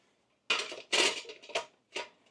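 An adapter clatters onto a Ninja Crispi air fryer in a kitchen, four or five close, sharp hard clinks and knocks in quick succession against near silence.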